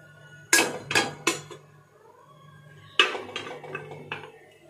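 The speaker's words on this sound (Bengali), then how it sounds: "আর এরপর কিন্তু আমি এই ট্রেটাকে মানে ইডলি স্ট্যান্ডটাকে কিন্তু আমি খুব ভালো করে কুকারের ভিতরে ঢুকিয়ে নেবো।" Metal idli stand trays clatter and clink as they are set down inside a pressure cooker, several sharp close metallic knocks in two bursts with a quiet pause between.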